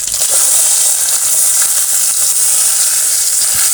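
Shallots, mustard seeds and cumin fry in hot oil with a steady, loud, close sizzle and hiss that holds unbroken throughout.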